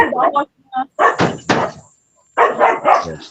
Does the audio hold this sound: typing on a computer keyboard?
no